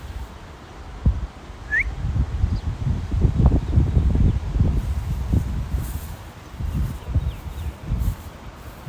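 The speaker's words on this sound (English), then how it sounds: "It's a little windy out here too, though." Morning wind gusts outdoors, rumbling and buffeting the microphone in uneven low swells, with a brief bird chirp early on.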